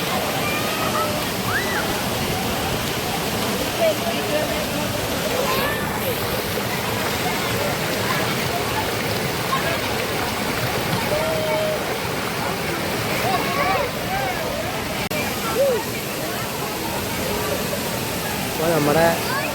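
Vattayi Waterfalls pouring down in a steady, full roar of rushing water that continues without a break, with faint voices of visitors now and then.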